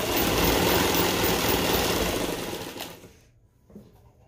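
An electric sewing machine stitching a palazzo fabric strip runs with a loud, steady whirring buzz for about three seconds, then slows and stops, followed by a brief faint click.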